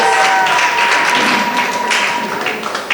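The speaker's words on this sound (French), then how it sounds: "je vais demander à ce que vous applaudissez pour elle." An audience at a graduation ceremony claps for a graduate, a steady wash of applause that holds for a few seconds and thins slightly toward the end.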